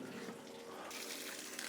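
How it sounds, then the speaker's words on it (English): Water running steadily from a tap as dirty, soil-covered hands are rinsed during seed-block making, a soft, close, continuous splashing hiss. "let me rinse my hand."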